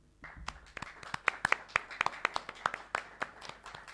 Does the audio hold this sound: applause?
yes